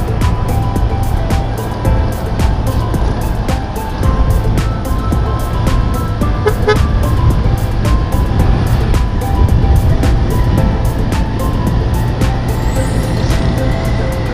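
A motor tricycle drives along a provincial road, its engine droning steadily and loudly close by for the whole stretch, with no talk.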